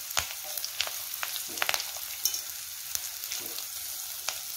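Onions fry in a pan while making a carrot paratha, a soft, continuous sizzle with scattered crackles and pops, heard close and fairly quiet, with no talking.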